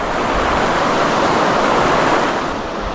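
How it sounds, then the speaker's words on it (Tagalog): A strong river current rushes past a fishing spot as a loud, continuous roar of flowing water, unbroken and close, with no voices. "Ang lakas ng agos"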